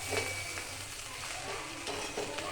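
Fried rice stirred in a pan, a steady close sizzle of frying with repeated scraping and stirring strokes running throughout, no voices.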